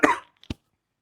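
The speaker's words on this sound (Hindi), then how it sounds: "वो थोड़ा बीच में खांसी हो गया।" One sharp, close cough from a man, followed after a short pause by a smaller second cough, then silence.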